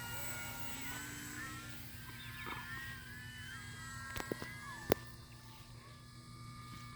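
An FMS 1500mm P-47 RC model plane flies slowly with its flaps deployed, a faint, distant electric whine that glides up and down in pitch over steady outdoor background noise, with a few sharp clicks near the end.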